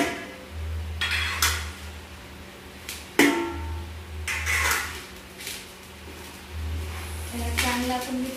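Mango pickle is stirred with mustard, turmeric and salt in a pot, producing intermittent metallic scraping and clinking of a spoon against the vessel, with a sharp knock midway and a low hum underneath.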